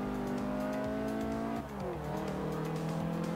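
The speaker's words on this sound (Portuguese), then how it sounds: "Maneiro vez ou outra dirigir um carrinho um pouco mais lento assim" A slower car's engine in the racing game Forza Horizon 2 drones steadily throughout, with a brief dip in revs midway before pulling again, continuous and fairly loud with no talking.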